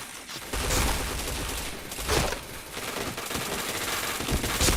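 Rapid automatic gunfire from a shooting video game crackles in dense, overlapping bursts, loud and close, with a few sharper shots standing out.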